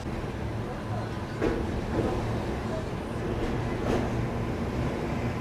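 A passenger train rolls across the bridge over the Mahanadi river in Odisha, with a steady low rumble and broad wind-like rush and a few faint clanks.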